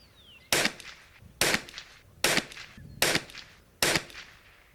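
A Bergara B14R .22LR rifle fires match ammunition: five sharp, evenly spaced shots about a second apart, each a crisp crack with a short ringing tail, close and loud.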